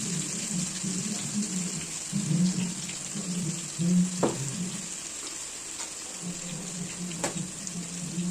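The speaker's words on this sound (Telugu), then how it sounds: "చికెన్ పక్కకు తీసుకున్నాం కదండి, అదే ఆయిల్లో అల్లం వెల్లుల్లి పేస్ట్ వేసుకోవాలి." Ginger garlic paste sizzles steadily in hot oil left over from frying chicken, a close, continuous crackle with occasional stirring clinks of a spoon and no voices.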